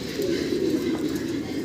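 A pair of German Beauty Homer pigeons in grizzle colouring coo in a low, continuous rolling murmur, close and steady throughout.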